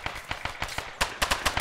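Rapid gunfire in the military shooter ArmA 3 on Altis, a steady series of loud sharp shots followed by a denser burst near the end, with no talk over it.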